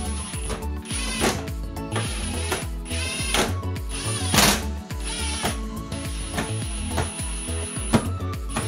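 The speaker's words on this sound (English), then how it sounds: "And then go back and screw everything down again." A ratcheting screwdriver or driver tightens screws to fasten the laundry machine cover back down, giving repeated loud mechanical clicking bursts in a steady rhythm at close range, with no voice.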